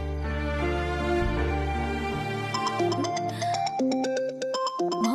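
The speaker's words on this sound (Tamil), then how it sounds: "மாமா தான் ஃபோன் பண்ணுது." A phone ringtone for an incoming call plays loudly and alone, starting with sustained tones and then changing to a rapid, repeating pattern of bright beeps.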